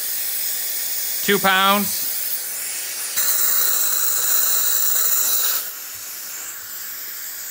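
Compressed air hisses through an Elite Engineering high flow catch can valve in two steady bursts. A voice speaks briefly between the bursts, and the second, longer hiss cuts off abruptly.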